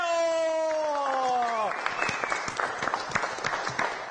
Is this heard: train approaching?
no